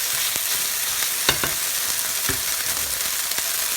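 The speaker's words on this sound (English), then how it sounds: "Now it's time to add our rice that you just have on the side." Cooked rice stir-frying in a hot pan for egg fried rice, a constant close sizzle broken by a few sharp scrapes and knocks of the utensil.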